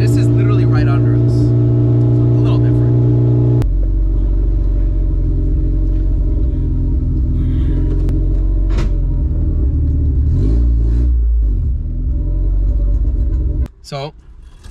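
A K24-swapped Acura Integra engine drones steadily from inside the car while driving, a deep sustained rumble with shifting pitch and a brief surge near the end, with voices talking over it.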